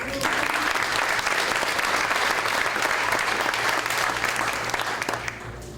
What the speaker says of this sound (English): Another round of applause for Stan.